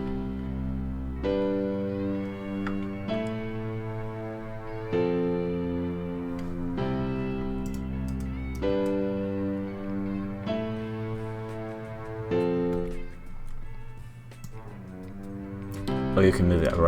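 Sustained bass chords programmed in FL Studio and shifted down an octave play as long held notes, each chord ringing for about two seconds before changing, deep and full, with a voice talking briefly near the end.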